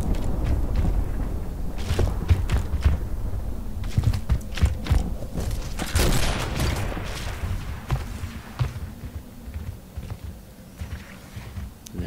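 Gunfire in a Gears of War match: dense bursts of shots and impacts over a continuous rumbling game mix, loud and busy throughout.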